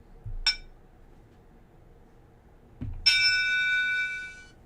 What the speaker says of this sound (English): That was for that was the super chat bell.